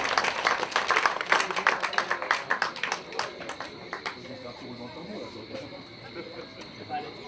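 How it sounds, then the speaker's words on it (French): An audience claps loudly and densely at a football pitch lighting inauguration in Le Gosier, then the clapping thins out and fades to a quieter, sparse patter near the end. "J'aimerais qu'on applaudisse très fort Monsieur Jean-Claude Lutin du Chamas"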